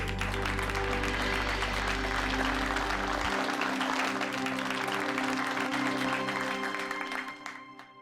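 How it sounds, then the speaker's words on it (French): Audience applause, a dense sustained clapping that carries steadily over background music and fades near the end. "Applaudissez-les!"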